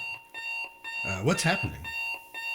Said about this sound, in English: that's just the alarm.